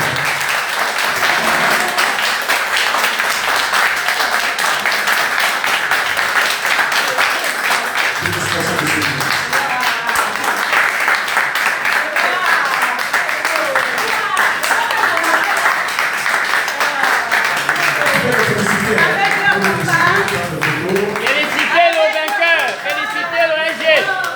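An assembly gives loud, continuous applause and cheering acclaim for a newly elected secretary general at a union congress in Gabon, with crowd voices and chatter rising through the clapping.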